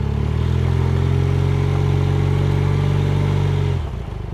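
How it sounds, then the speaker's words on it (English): A 1978 Honda CB400A Hondamatic motorcycle pulls away under throttle, its loud, close engine droning steadily before the note drops off near the end. "All I have to do is give it some gas and it'll take off."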